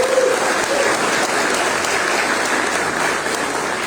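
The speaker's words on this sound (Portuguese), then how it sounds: "Você pode dar uma salva de palmas a Jesus" A church congregation at a Bola de Neve service applauds in a loud, dense, steady wash of clapping that holds evenly throughout without pause.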